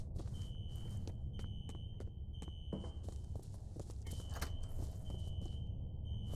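An alarm sounds in the video game F.E.A.R., a steady high-pitched electronic tone that repeatedly cuts in and out, with footsteps and sharp clicks beneath it.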